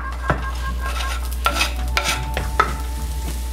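Garlic and ginger sauté in a teaspoon of grape seed oil, a steady close sizzle with a few sharp stirring scrapes and clicks of a utensil against the pan, no voices.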